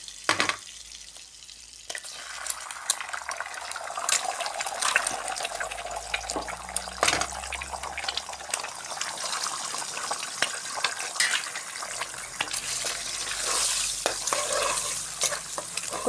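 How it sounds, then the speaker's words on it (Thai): Egg is stirred into melted butter in a frying pan over lowered heat, producing a continuous close sizzle with wet scraping and clinking of a utensil, no talk over it. "ค่อยๆ คนให้ไข่มันกระจายทั่วกันนะครับ"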